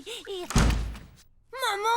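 A door shuts with a dull thunk between bits of speech, the heavy thud low and close, followed by a brief pause before talking resumes.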